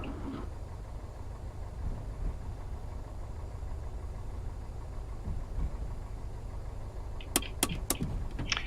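Aircraft engine idling in a flight simulator during a VFR flight from Kruger Mpumalanga International Airport, heard as a steady low rumble that continues throughout, with a few brief clicks near the end.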